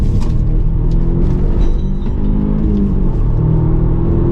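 Audi TT engine revving under throttle while driving, loud close engine roar with rising and falling pitch over steady road rumble from inside the car.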